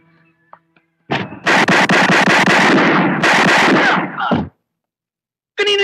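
Gunfire in a Tagalog action film, a loud rapid volley of close shots that goes on for about three seconds after a short quiet stretch, followed by silence.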